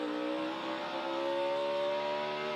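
A NASCAR Xfinity race car at Circuit of the Americas entering a corner at low RPM, its engine a steady, loud, buzzing drone with strong harmonics that holds nearly level and rises slightly.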